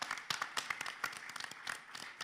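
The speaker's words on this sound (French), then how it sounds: "je vous demande de les applaudir" Applause from the audience at a plenary session for mayors and town hall secretaries in Cantal, a fairly quiet patter of scattered hand claps lasting a couple of seconds with no voices over it.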